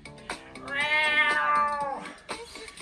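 A person imitating an angry cat during a kids' workout, a loud drawn-out yowling meow up close, bracketed by brief vocal sounds.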